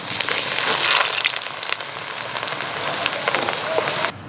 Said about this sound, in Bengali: দেখুন গাজরগুলো 1 মিনিট দেওয়ার সাথে সাথে ভাজা হয়ে গেছে।